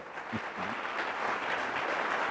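A church congregation applauds during a Spanish-language worship service, steady dense clapping heard from a distance, faint and even throughout, with a brief voice near the start.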